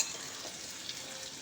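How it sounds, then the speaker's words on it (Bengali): Onions fry in hot oil, a steady close sizzle and crackle with faint stirring throughout. "তো পেঁয়াজটাকে দিয়ে লাল লাল করে ভেজে নেব"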